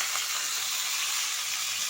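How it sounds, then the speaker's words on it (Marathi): Cumin seeds dropped into hot oil in a pan on medium heat, giving a steady, even sizzling hiss throughout, close and uninterrupted. "तेल गरम झाले आपलं, यामध्ये मी हे जिरे टाकून घेणार आहे"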